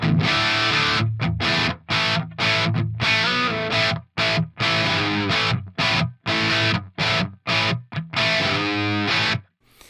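Electric guitar through an Axe-Fx III model of a Bogner Shiva 20th Anniversary Edition amp, playing choppy, distorted chords in short bursts with brief gaps between, loud and close.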